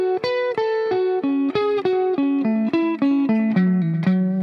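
Electric guitar run through distortion and effects plays a fast, evenly picked descending arpeggio lick, each note sustaining clearly and alone at close range, with no talking.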